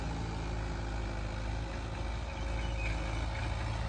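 Tractor engine running steadily at normal revs after servicing, a continuous low diesel rumble with no pauses and no talk.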